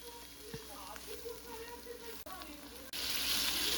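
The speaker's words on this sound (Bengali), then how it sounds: "দিয়ে পেঁয়াজটার সঙ্গে ভালো করে কষিয়ে নিব।" Onion frying with turmeric, chili, coriander, cumin and salt, a close steady sizzle with occasional stirring scrapes, the hiss briefly cutting out before returning louder.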